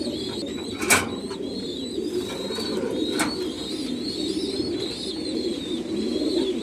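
Racing pigeons coo softly and repeatedly at close range, with low throaty murmurs layered over one another and a couple of sharp clicks or taps.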